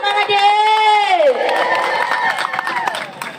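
An audience at a neighbourhood religious competition cheers and claps for a young contestant. A raised, tonal shout opens the sound, then a dense crowd of claps and cheers carries on steadily and fades slightly toward the end.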